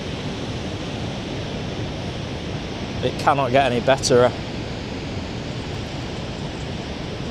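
Niagara Falls pours with a steady, dense roar of rushing water that fills the whole stretch, while a person speaks briefly in the middle.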